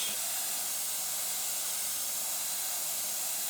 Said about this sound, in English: Always testing my spray, that it's not too much.